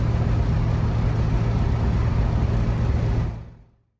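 A 1967 Ford Mustang fitted with power steering drives on a test run, a steady loud engine and road rumble that fades out abruptly near the end.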